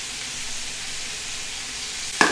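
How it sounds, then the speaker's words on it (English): Softened roasted sunchokes searing in a very hot pan, a steady close hiss and sizzle throughout, ending in a brief sharp clatter. "I'm just going to sear them down a little bit."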